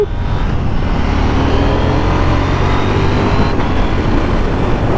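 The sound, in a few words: KTM 890 Duke R 2021 motorcycle riding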